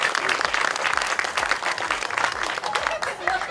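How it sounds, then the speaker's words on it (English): A crowd applauds honorees at a groundbreaking ceremony for a college student center, with brisk, sustained clapping from many hands and a few low voices mixed in beneath it. "A round of applause for them."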